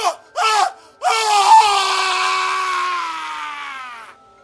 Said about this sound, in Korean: 바로 그때 밖에서 찢어질 듯한 비명소리가 들렸다.